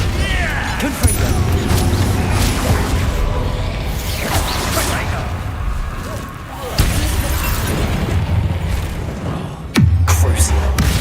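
Confringo blasting spell explosions in Hogwarts Legacy, loud shattering bursts and booms with whooshes, repeated several times amid combat noise, a voice calling out spells between hits.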